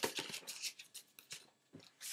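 Playing cards are shuffled by hand in a quiet room, making soft, crisp papery riffles and slaps in short, uneven bursts.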